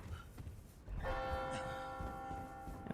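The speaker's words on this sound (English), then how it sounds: "And of course, the bell rings." A church bell in Resident Evil 4 Remake tolls once with a loud, ringing strike that hangs in a long, shimmering decay over low game ambience.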